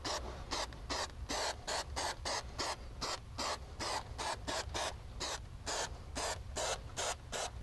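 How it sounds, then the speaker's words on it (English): Spray adhesive hisses in rapid repeated bursts onto the back of a classic VW Beetle headliner, close and steady with short gaps between passes, no voices. "start just spraying the headliner, the back of it"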